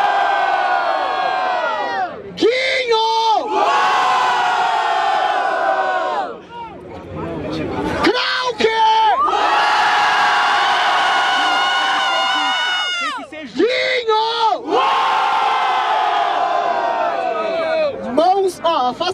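A large crowd at a rap battle in Barueri roars and cheers loudly for a rapper in long surging waves, with shouts and whoops rising and falling, briefly dipping before swelling again.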